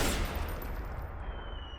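Rifle fire in Metal Gear Solid 4, a loud, dense burst of shots at the very start that trails off into lingering noise, with no talking.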